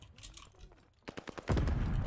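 Gunfire in Call of Duty Vanguard from M1 Garand and SMG play: a couple of faint sharp shots, then a loud burst of rapid fire crowding the end of the moment.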